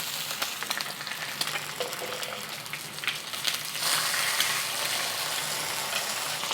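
Eggs and Spam frying in a pan, a steady close crackling sizzle that grows louder and fuller partway through, with occasional light scraping.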